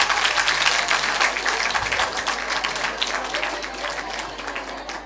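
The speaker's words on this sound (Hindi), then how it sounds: "गुनगुना दीजिए जोरदार तालियां" A large crowd at a Sanskrit quiz event during a poet's festival breaks into loud, sustained applause, dense clapping filling the whole stretch and easing slightly toward the end.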